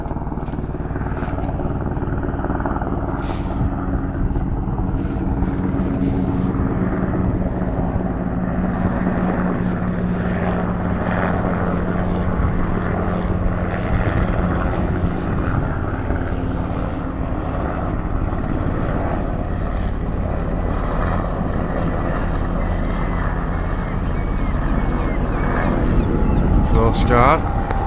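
A rescue helicopter flies overhead at sunset, its steady rotor and engine drone continuous and fairly loud throughout, with someone talking over it at times.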